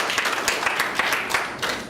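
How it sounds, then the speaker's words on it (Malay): Audience applause at an indoor talk, steady dense clapping from a crowd throughout, fairly close and even in loudness. "bagi tepukan untuk Tuan Syah"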